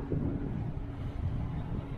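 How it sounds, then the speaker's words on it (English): Steady wind buffets a microphone outdoors at the Herculaneum Dock remains on a very windy, showery day, giving a constant low rumbling roar with no talking over it. "You have to excuse the wind noise"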